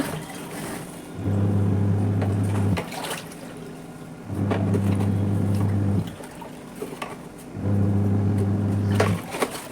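Semi-automatic washing machine washing clothes with soap powder, its motor humming in three long bursts of a couple of seconds each, separated by pauses filled with sloshing water, steady and close.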